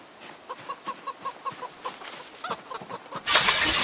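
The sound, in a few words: chickens clucking in a video game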